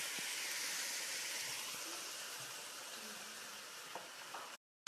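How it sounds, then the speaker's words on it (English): Vegetables stir frying with soy sauce in a hot wok over medium-high heat, a steady loud sizzle and hiss that holds throughout, cutting off abruptly near the end. "I'm going to stir fry these vegetables."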